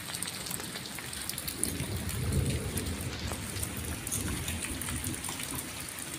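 Heavy rain pouring down outdoors on a cloudy day, a dense continuous hiss of drops striking surfaces, loud and close, with a low rumble swelling briefly in the middle and no talking.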